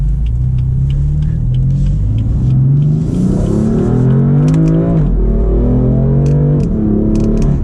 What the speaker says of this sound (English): this will be a good spot to do a little bit of an acceleration